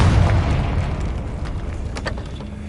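A Confringo spell bursts in Hogwarts Legacy, opening with a heavy, deep boom that decays into a rumbling tail and fades over a couple of seconds, with no voices.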